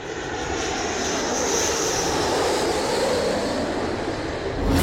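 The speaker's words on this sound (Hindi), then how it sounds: "B-1 बॉम्बर इस मिशन के लिए ब्रिटेन पहुंच चुका है।" A B-1 bomber's jet engines roar steadily, a loud, broad, continuous rumble that holds for several seconds and swells slightly near the end, with no voices.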